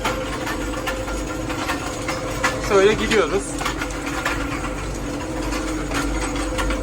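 A New Holland tractor engine labours up a steep slope with a tine cultivator in tow, hand throttle held fixed, producing a steady continuous drone with a brief louder surge midway while someone talks over it.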